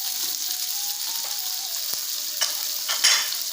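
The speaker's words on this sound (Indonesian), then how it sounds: "Kita tumis, oke." Petai beans and fermented soybean paste sauté in a pan for a Padang-style gulai, a steady close hiss of frying with a few scraping stirs toward the end and no voices.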